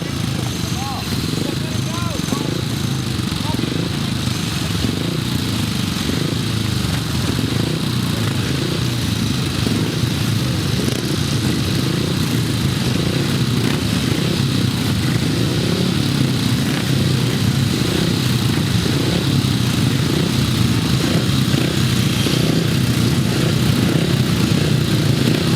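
Grasstrack racing motorcycles at a British Masters qualifier meeting drone steadily at a distance, a continuous mass of engine noise heard under an announcer's voice for the whole stretch.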